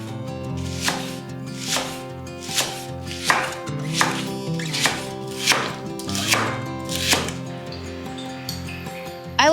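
Leek chopped with a knife on a board, a steady series of about ten crisp, evenly spaced cuts that ring slightly and sit close and loud with no talk.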